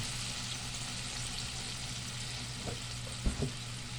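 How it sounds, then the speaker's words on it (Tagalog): Dried fish sautés in a pan on a stove at medium heat, a quiet steady sizzle with a couple of soft stirring knocks near the end. "gisa-gisa lang guys, gisa-gisa lang"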